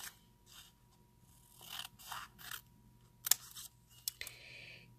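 Scissors cut strips from a clear jelly stamper material, several short crisp snips and slicing swishes close by at an uneven pace, with small scrapes and clicks between the cuts and no talking.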